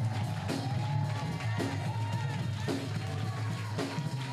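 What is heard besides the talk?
congregation cheering and acclaiming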